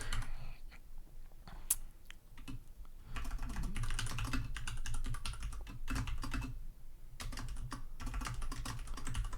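Rapid, irregular keystrokes on a computer keyboard as C++ code is typed, close and clear, with bursts of clicking separated by brief pauses over a low steady background hum.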